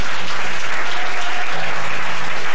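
Church congregation at a Sunday worship service applauding steadily, a dense, loud wash of clapping from a crowd that continues for the whole stretch with a faint tonal hum underneath.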